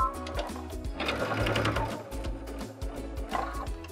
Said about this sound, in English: because I have a sewing machine, I'm gonna sew the button on with the sewing machine